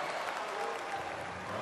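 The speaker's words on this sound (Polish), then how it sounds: "Mimo to Talan Dujszebajew bije brawo" Applause fills the arena at a handball match, Wybrzeże Gdańsk against Vive Tauron Kielce, with coach Talant Dujshebaev clapping. A steady, dense wash of crowd clapping runs evenly throughout with no talk.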